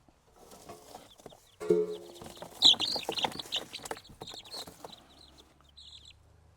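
Young chickens cluck and squawk close by in a short burst of busy activity, with a loud high squawk partway through, then quieter rustling.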